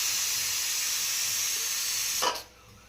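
A pressure cooker whistle releases a loud, steady hiss of steam in a home kitchen while Karnataka-style chicken sambar cooks, then cuts off sharply with a brief burst, leaving quieter background.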